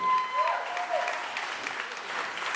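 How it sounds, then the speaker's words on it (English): Wedding guests applaud at a reception in the Larz Anderson Museum, a steady, moderately loud wash of clapping, with a short whistle-like tone early on. "give yourself a big round of applause for coming out to the Larz Anderson Museum"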